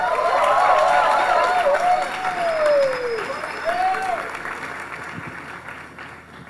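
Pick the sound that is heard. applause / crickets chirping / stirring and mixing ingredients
applause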